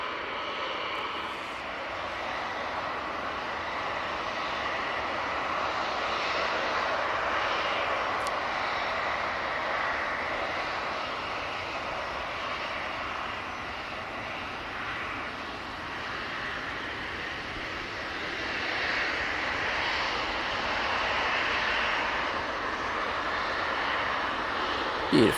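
A Turkish Airlines jet at Manchester Airport gives off a steady, moderately distant engine roar that swells and eases over the span, with a voice speaking intermittently.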